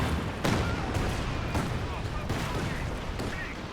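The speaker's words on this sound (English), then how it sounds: "I am bombarding this area because I know there's a machine gun around here." Artillery bombardment in Company of Heroes 2 pounds an area, with repeated heavy booms and blasts roughly every half second to second over a dense, noisy battle din, loud and continuous.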